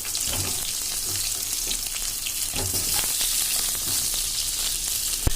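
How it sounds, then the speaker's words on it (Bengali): Sliced pointed gourd fries in hot oil in a wok, a loud continuous sizzle with scattered crackles and occasional stirring clinks throughout. "এরপর কেটে রাখা পটলগুলো আমরা লাল লাল করে ভেজে তুলে রাখব"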